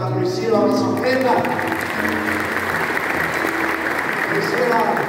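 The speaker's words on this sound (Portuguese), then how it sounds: "Uma salva de palmas para Priscila Massafreda." Audience applauds at an indoor company gathering, steady clapping filling the room while a voice talks over it.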